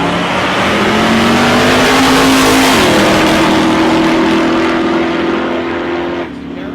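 Drag race cars roar at full throttle down the strip at South Coast Raceway, a loud sustained engine drone with a gear-change shift midway, continuous and close.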